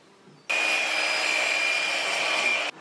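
A power saw cuts a PVC trim board to length, a loud steady whining buzz starting abruptly after a brief quiet lead-in and stopping sharply near the end, no talking.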